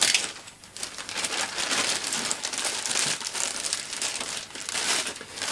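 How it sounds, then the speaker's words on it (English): Foam end packaging being handled as an ATOLL Electronique IN50 Signature integrated amplifier is lifted out: steady, close crinkling and squeaking rustle with no talk. "taking it out of the foam ends, very easy, just a simple sort of lift"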